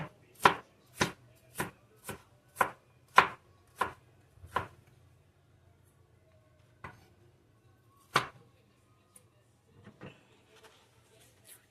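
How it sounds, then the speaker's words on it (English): A knife chops green pepper on the flesh side against a cutting board, giving about nine sharp, evenly spaced close-up cuts in a steady rhythm, then a pause and a few scattered lighter knocks. "You don't want to cut it on the skin side, you want to cut it on the flesh side."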